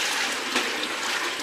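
Grape must porridge (moustalevria) poured into a strainer in a home kitchen, a steady close, rushing liquid pour that stays loud and even for the whole short moment, with no talking.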